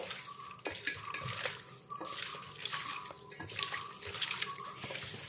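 Spice powders (meat masala, salt, turmeric, pepper) stirred into raw buffalo meat for a Kerala curry, with wet squelching and scraping strokes in a rhythmic pattern, close and moderately quiet, no talking.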